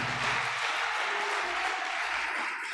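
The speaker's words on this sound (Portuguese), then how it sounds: "dê uma salva de palmas para Jesus" A church congregation at the Vinha ES 2021 conference claps in steady, dense applause that stays loud and close from start to finish.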